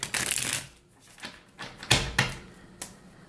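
A Spellcaster's Tarot card deck is shuffled by hand in several quick riffling bursts with short pauses between them, close and crisp, with no talking.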